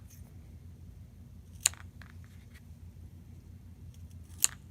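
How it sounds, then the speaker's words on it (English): Scissors snip an adhesive square into quarters during a kids' scarecrow magnet craft, with two sharp, isolated cuts sounding close over a quiet room hum. "So I am going to take my adhesive square"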